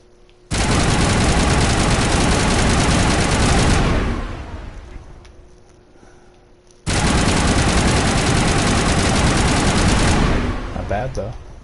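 Loud, close bursts of sustained automatic gunfire from a gun in the video game Mass Effect, two long continuous volleys of several seconds each separated by a brief quieter pause.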